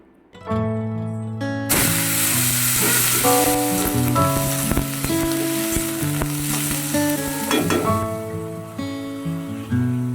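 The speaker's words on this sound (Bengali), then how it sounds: "চিচিঙ্গাটা ভাজা বসিয়ে দিয়ে" Sliced ridge gourd fries in hot oil in a pan, a loud, steady sizzle that runs almost the whole time after a sharp start, with tonal music layered over it.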